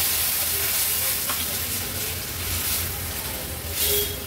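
Brinjal masala simmering on a high gas flame just after water is poured in, giving off a steady steaming hiss and sizzle with soft bubbling, fairly loud and continuous throughout.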